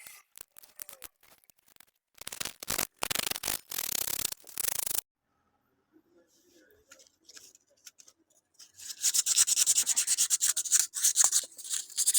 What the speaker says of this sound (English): A woodworker's worst nightmare, sanding.